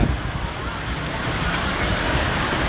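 Rain beginning to fall on a street in Huai Khwang, Bangkok: a steady soft hiss of drops spread across the whole clip, moderately quiet, with no voices over it.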